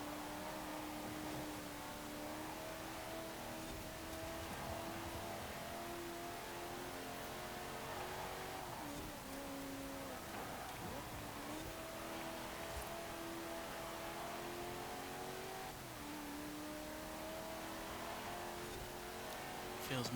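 A modified race car with a lighter flywheel revs through gears in Forza Horizon 4, engine pitch climbing and dropping repeatedly with shifts, steady and continuous throughout.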